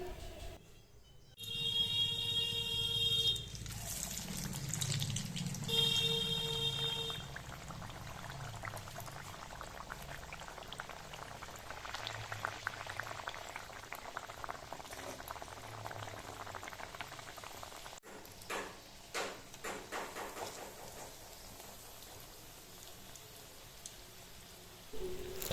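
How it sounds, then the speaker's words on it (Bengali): Luchi, round discs of dough, deep-frying in hot oil, with a steady bubbling hiss that rises after a soft pour-like splash and runs on for a long stretch, with a few brief clicks near the end. "এবার এইভাবে গরম তেলে আমরা এটাকে ভেজে নেব।"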